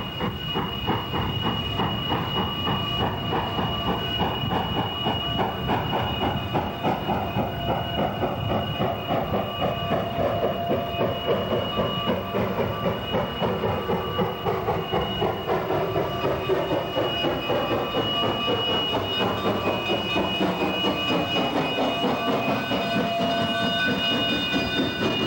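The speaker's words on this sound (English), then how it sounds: "one can still ride a steam-powered train out of" Cumbres & Toltec narrow-gauge steam train climbing a hill out of Chama, a steady, loud rumble of rolling cars with rhythmic clatter and a sustained high tonal whine or whistle running throughout, with no voices.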